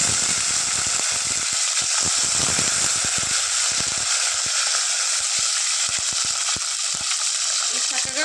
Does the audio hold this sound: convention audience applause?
no